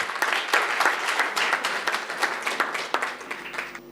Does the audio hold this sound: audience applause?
yes